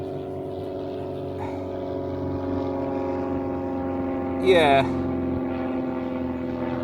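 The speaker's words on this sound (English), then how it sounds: "Oh, low flying aeroplane overhead" A low-flying propeller aeroplane drones overhead above a stubble field, a steady close hum that swells briefly as it passes, while someone speaks a word.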